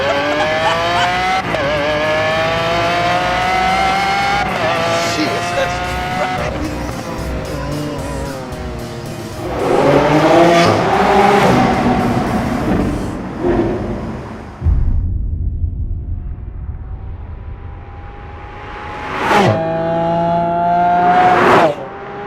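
A Lamborghini Aventador SV LP750-4 is driven hard on a track, its engine revving and sweeping up through the gears in loud bursts. Brief gaps between pulls are followed by renewed high-pitched acceleration close by.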